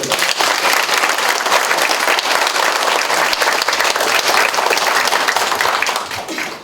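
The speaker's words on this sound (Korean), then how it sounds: "박수 한번 보내주세요." A crowd at a town meeting during a mayor's district visit breaks into loud, sustained applause, dense clapping that holds steady for about six seconds before beginning to fade.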